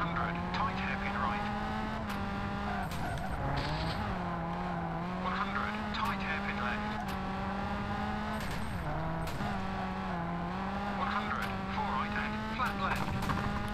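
Rally car in V-Rally 3 on a French stage with a 1.6-litre engine, its steady droning engine held under constant throttle with occasional gear shifts and tire clicks throughout.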